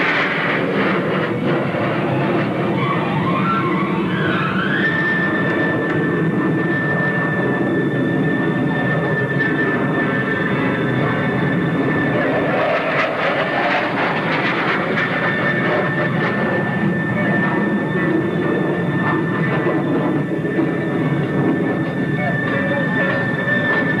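USAF Thunderbirds jets pull up in formation at the 1986 Texas Air Expo in Waco, a loud, steady, distant roar of jet engines that rises and falls slightly and carries on throughout.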